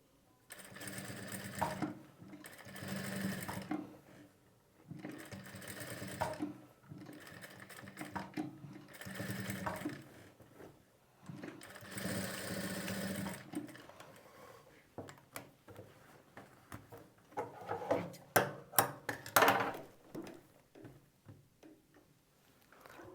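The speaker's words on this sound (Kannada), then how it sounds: "ಈ ಕಡೆ ಸೈಡಿಂದ ಒಂದು ಸೈಡ್ ಸ್ಟಿಚ್ ಮಾಡಿ ಮತ್ತು ಆ ಕಡೆ ಸೈಡಿಂದ ಒಂದು ಸೈಡ್ ಸ್ಟಿಚ್ ಮಾಡಿ" A sewing machine stitches the side seams of a blouse in several separate bursts of rapid, rattling whir, each lasting a few seconds with short pauses between, followed by a flurry of quick clicks and ticks as the fabric is handled.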